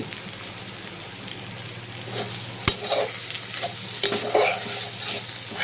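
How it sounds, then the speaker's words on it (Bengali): Kulekhara greens fried with a spoonful of ghee, stirred in a pan with a steady close sizzle and a few sharper scraping clacks of the spatula, no talk. "ঘিটা দিয়ে একটু নেড়ে চেড়ে নিতে হবে"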